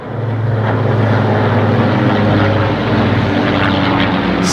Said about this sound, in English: it sounds like a very nice plane going over